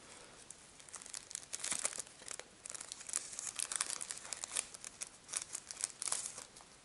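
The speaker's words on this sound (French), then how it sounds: "Voilà, on va le déballer." Faint, close crinkling and tearing of a protective plastic pouch as an SMR74ZZ ball bearing is unwrapped, soft irregular rustles continuing for several seconds with no voices.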